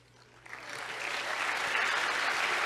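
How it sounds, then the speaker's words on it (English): Audience applause building from quiet to a full, steady wash of clapping that swells over the first second and holds loud to the end, with a faint voice underneath at the start. "I'll clap for the audience."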